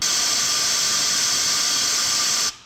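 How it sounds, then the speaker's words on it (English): Compressed air jet blasting onto freshly melted plastic during a broken tab repair, a loud, steady, close hiss of rushing air that stops sharply at the end. "I'll quickly cool down the plastic with compressed air."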